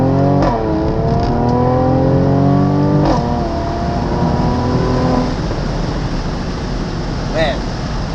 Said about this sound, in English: It's probably the best V6 sound I've ever heard